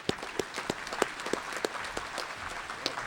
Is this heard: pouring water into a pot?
no